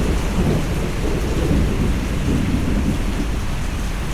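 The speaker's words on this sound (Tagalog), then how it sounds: "Lumakas yung ulan eh." Heavy rain pours down steadily during a thunderstorm near a riverbank, with low thunder rumbling beneath the dense, loud hiss of the downpour for the whole stretch, and no voices.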